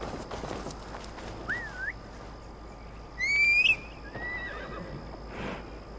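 A horse in the video game Assassin's Creed Valhalla lets out a short, loud whinny midway through. Fainter calls and light game ambience fill the rest.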